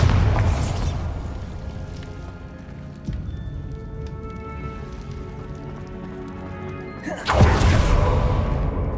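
A Bombarda spell in Hogwarts Legacy goes off, a loud burst at the start followed by crumbling debris and rattling, then another strong blast near the end, with no talking.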